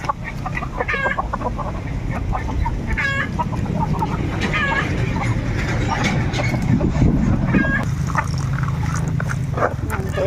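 Native chickens cluck and cackle close by at feeding time, with repeated short calls over a busy background murmur and some talking.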